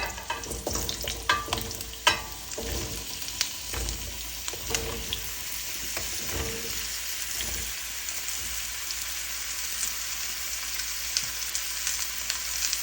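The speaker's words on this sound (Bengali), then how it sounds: "আজকে মিষ্টি কুমড়া ভেজে রান্না করব, হালকা ভেজে" Sweet pumpkin fries lightly in a pan, with a continuous close sizzle like rain on a surface; spoon clatter and stirring scrapes are busy at the start and then settle into steady frying.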